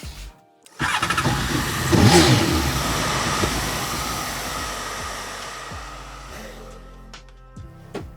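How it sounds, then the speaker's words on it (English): A hair dryer drying wet paint whirs steadily at close range, starting abruptly after a brief pause and running continuously with slight shifts in pitch. "Now I'm literally just going to take a blow dryer and I'm gonna let this dry"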